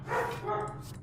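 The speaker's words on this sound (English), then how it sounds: "Apologies for the dog." A dog barks nearby in a room, a couple of quick loud barks over a low background hum.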